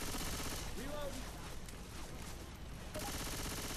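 Machine gun fire in the zombie shooter game Left 4 Dead 2, a dense steady rattle of rapid shots with explosive bursts running through the whole stretch, loud and continuous, with players talking over it.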